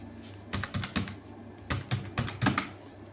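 Computer keyboard keys clatter in two quick bursts of typing while an address is entered into a Microsoft Word resume, close and crisp with a short pause between runs of keystrokes.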